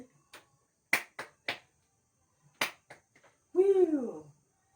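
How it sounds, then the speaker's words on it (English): A class performs an angel clap: a few crisp, separated claps or snaps in a short pattern, then a bright voiced "woo" rising at the end. "Let us do angel clap."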